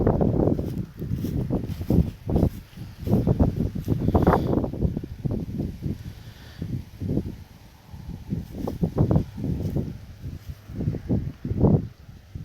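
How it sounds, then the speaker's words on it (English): Outdoor wind on a cold day buffets the microphone in uneven, rumbling gusts that rise and fall over several seconds. The sound is loud and close, with no talking. "Whew, and the wind."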